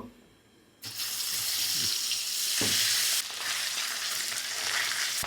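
Beaten eggs hitting hot oil in a wok burst into a loud, continuous sizzle after a brief quiet start, surging stronger midway and crackling steadily to the end.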